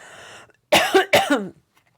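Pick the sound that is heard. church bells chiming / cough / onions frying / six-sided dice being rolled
cough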